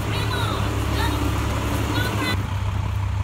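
Buses idle and move at a busy bus station, giving a low constant engine rumble with faint higher tones, and a person talks over the noise.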